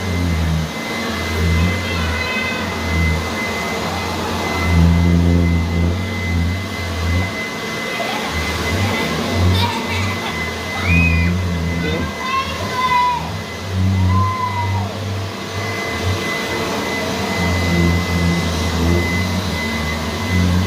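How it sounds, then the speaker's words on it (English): Steady droning roar of a homebuilt hovercraft's blower inflating the skirt and pushing air out through its small holes, loud and continuous, with a few brief squeaky whistles and people talking over it. "That inflates the skirt, gives it all structure. And now the air is flowing out of all those little holes,"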